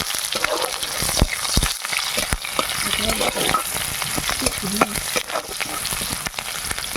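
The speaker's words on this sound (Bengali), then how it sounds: "পাঁচ ফোড়ন পেঁয়াজ দেওয়া হয়ে গেল" Onions and five-spice seeds fry in hot oil for a tilapia and cauliflower curry, a loud continuous close sizzle broken by frequent stirring scrapes, with no voices.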